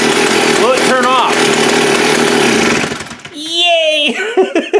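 A chainsaw engine runs loud and close at a steady high rev, then cuts out near the end as a person speaks over the quieter tail.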